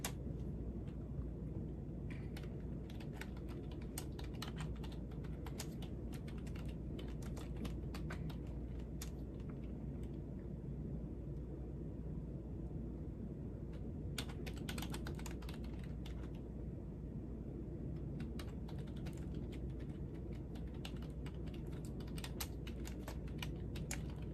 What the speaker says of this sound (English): Y'all probably hear me click-clacking on this keyboard.